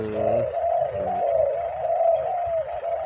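A spotted dove coos in the morning, a close, sustained, slightly wavering hollow call held for about three seconds, with faint other birds chirping in the background.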